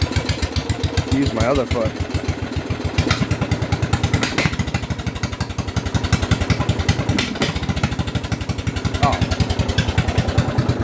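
A CCS racing lawn mower's engine runs loudly and steadily throughout, a rough, pulsing motor drone close by, with someone talking over it.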